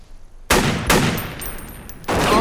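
Loud gunfire from a sniper firing across the Mexican border in a TV drama, with two sharp, heavy blasts at the start and near the middle, a long rumbling tail after each, and a third blast breaking in at the end.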